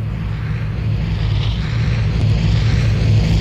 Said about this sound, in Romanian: Avem un avion.